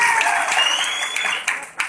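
An audience at a public speech claps in a dense burst of applause, loud and close, with a voice sounding over the clapping and a few sharper claps near the end.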